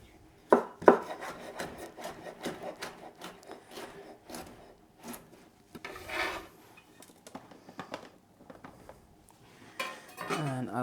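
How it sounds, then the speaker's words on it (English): Knife chopping salad vegetables into cubes on a wooden cutting board, producing a run of quick, close, crisp taps and rubbing scrapes in an irregular rhythm, moderately quiet. "And the rest I'll just cut into some cubes."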